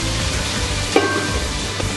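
Vegetables stir-frying in a pan with soy sauce give off a steady, close sizzle, broken once by a sharp clank of a utensil against the pan.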